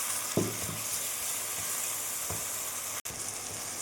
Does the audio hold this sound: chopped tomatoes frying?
yes